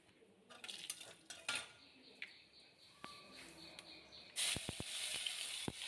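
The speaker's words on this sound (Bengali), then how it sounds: "আমি এমনি দিয়ে দিলাম পেস্টটা। এরকম দিয়ে নাড়িয়ে দিচ্ছি" Spoon scraping and stirring a ginger, tomato and green chilli paste frying with whole spices in a pan, quiet irregular clinks and scrapes with a louder sizzling rush near the end.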